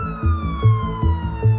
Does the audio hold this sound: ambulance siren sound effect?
yes